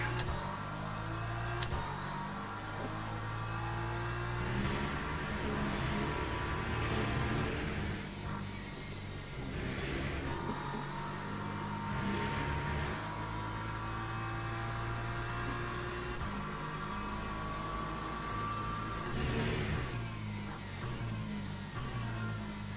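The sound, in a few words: GT3 race car engines at race start, Le Mans Ultimate video game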